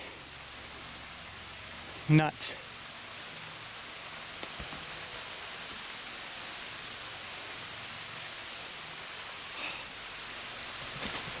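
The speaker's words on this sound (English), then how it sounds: "Oh, here comes the rain." Steady hiss of rain falling all around on a hillside trail near Temiskaming Shores, with a short spoken exclamation and a couple of nearby knocks early on.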